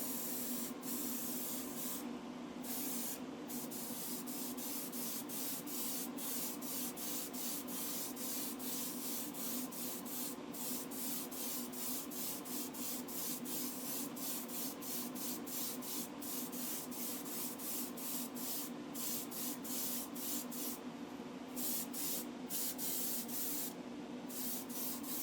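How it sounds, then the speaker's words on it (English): A light coat of Cosmic Sparkle Silver spray paint is being applied to a model bus, a steady close hiss that runs continuously with brief breaks between passes. "I was just about to do a very light coating of some Cosmic Sparkle Silver"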